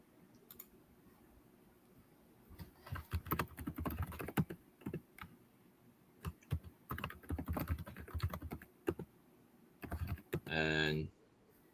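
Computer keyboard typing in bursts of close, crisp key clicks with pauses between runs, followed by a brief spoken voice near the end.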